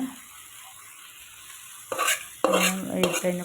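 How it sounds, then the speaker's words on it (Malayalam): A spoon scrapes and clatters through pepper chicken masala in a pan, starting quietly with faint sizzling, then several loud, close stirring strokes and metallic knocks in the last second and a half. "എന്നിട്ട് നമ്മൾ നന്നായിട്ടൊന്ന് ഇളക്കി കൊടുക്കുക"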